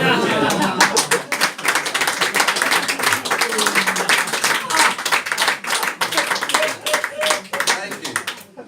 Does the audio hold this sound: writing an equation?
no